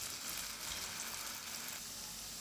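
Diced potatoes frying in oil in a pan for corned beef, a steady, even hiss and sizzle that stays constant with no talk over it.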